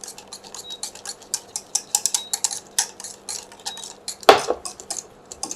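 A wire whisk beats eggless pastry cream in a pot off the heat, giving a quick, steady run of bright metallic clicks and scrapes against the pot, with one sharper clatter near the end.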